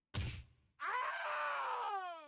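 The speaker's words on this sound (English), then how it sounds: "Their screams are funny." Enemy soldiers in the tactical RPG Triangle Strategy let out a short burst of low grunting cries, then a sustained, loud, tonal scream that trails off, with no talking.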